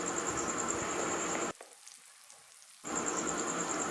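Onions fry in a pan with a loud, close sizzle that cuts out abruptly for about a second before resuming just as strongly.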